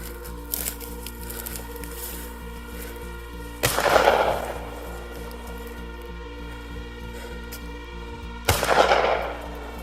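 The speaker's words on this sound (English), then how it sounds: "has to resort to gunshots in order to scare it off" Two sharp gunshots, fired to scare off a mountain lion, ring out several seconds apart, each followed by a short echoing rumble, over a quiet outdoor background.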